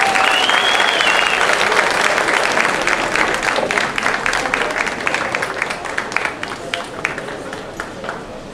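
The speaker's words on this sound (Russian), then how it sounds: "Давайте поаплодируем" Arena crowd applauding as a boxer walks in, a dense, loud wash of clapping and cheering that gradually thins toward the end, with a voice over it.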